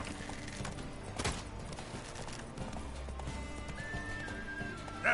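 Horse Roach in The Witcher 3 running, hooves thudding quietly under game sound, with a high neigh near the end; faint overall, no talk.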